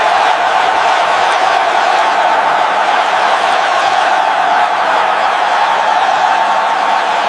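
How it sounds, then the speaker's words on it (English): An arena crowd roars in a dense, steady wash of cheering and shouting, loud and sustained throughout with no break. "The deafening roar of the crowd crashes through the tunnel like a tidal wave."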